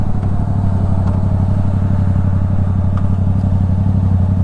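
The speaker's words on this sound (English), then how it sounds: "I'm already on the motorcycle because I'm done for the day" A motorcycle being ridden, its engine running in a steady, loud, low rumble with a constant rhythmic throb and light clatter throughout.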